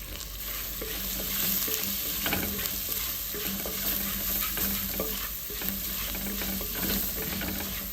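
Sliced onion sprinkled with salt sautés in a pan for Kerala fish head curry, a dense, even hiss with soft rhythmic stirring scrapes running the whole time.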